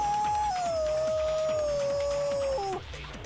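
A dog howls in the Danganronpa: Trigger Happy Havoc video game, one long, loud, sustained wavering note that drops slightly before breaking off near the end over a faint rhythmic background pulse.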